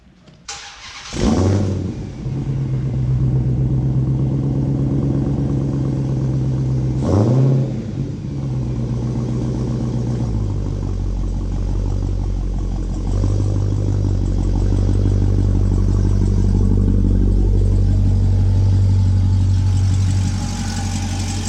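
A 2016 Dodge Hellcat V8 fires up with a loud starting burst, settles into a deep rumbling idle, blips the throttle briefly, then holds a steady, throaty idle at close range.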